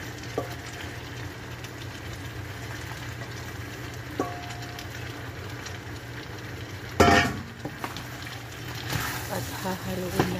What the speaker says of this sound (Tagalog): At hahaluin natin ang ating nilulutong zucchini.